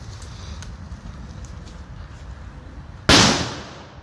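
An M80 firecracker packed inside a tree goes off with a single sharp, loud blast after several seconds of quiet outdoor ambience, the bang decaying over about a second.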